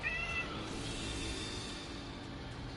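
A grumpy pet cat lets out one short, fairly faint meow at the very start, followed by quiet room noise.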